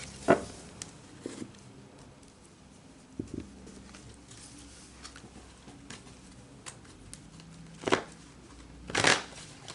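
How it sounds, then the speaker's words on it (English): Energy cards are shuffled for a card reading, with soft riffling and tapping that comes in scattered close bursts, including a louder flurry near the end, and no one speaks. "So let's pull some energy cards for you guys."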